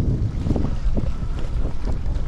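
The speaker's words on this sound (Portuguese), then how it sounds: "Um dia super agradável, com a brisa refrescante soprando." A refreshing breeze blows beside a seaside municipal market near a port, a steady rushing wind buffeting the microphone with low rumble throughout, close and fairly loud, with no voices.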